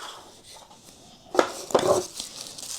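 Wooden toy kitchen plates and a pan knock and clatter while being handled, a few close, brief hollow clacks in quick succession over quiet room tone.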